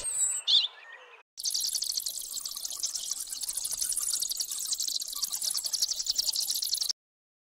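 Robin song: a short faint call at the start, then after a brief gap a dense, continuous run of high, rapid chirps and trills that carries on steadily for several seconds before stopping abruptly.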